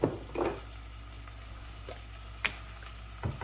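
Bell peppers sauteing with salt and turmeric in a pan, with soft intermittent sizzling and a few stirring scrapes and clinks over a quiet steady hiss.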